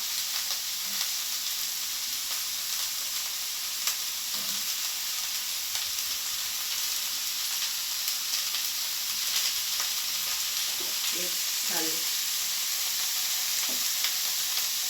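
Vegetables, including beans, fry for veg fried rice on an Elica gas hob, giving a continuous close sizzle with occasional soft stirring clinks and scrapes of the pan.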